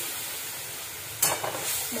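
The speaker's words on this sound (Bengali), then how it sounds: "মশলাটাকে ভালো করে ভাজতে হবে, ভালো করে মশলাটাকে ভেজে" Spices of cumin, ginger, tomato and chili fry in hot oil in a wok, giving a steady soft sizzle with a sudden sharper crackle and stirring scrapes partway through, close and without speech.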